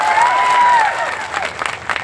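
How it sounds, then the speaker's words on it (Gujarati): Crowd applause at an Aam Aadmi Party political rally, a burst of loud clapping and cheering from a large audience that fades over about two seconds. "એકવાર જોરદાર તાળીઓ પાડી લો."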